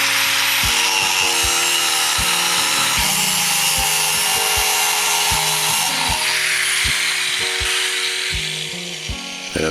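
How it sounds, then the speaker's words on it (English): A power saw cuts steel rebar into short 300 mm lengths, a loud continuous grinding whine with a shifting pitch, interrupted by clanks and knocks of the metal bar, close and without talk. "we've got to cut some rebar so we can insert them in the slots"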